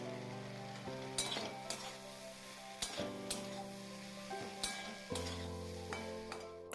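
Turmeric and chili powders being stirred in a hot frying pan, a steady sizzle with scraping strokes and a few sharp clinks of the spoon against the pan, close and alone over a low hum.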